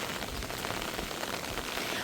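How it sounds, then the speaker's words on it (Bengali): Steady, even hiss of rain falling, faint and continuous with no voices. "অনেক বৃষ্টি নামছে"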